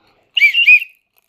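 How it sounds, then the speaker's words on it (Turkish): One short, sharp whistle blast comes in a single two-part toot, loud and close, with silence before and after. "İlk önce bir düdüğümü çalmam lazım."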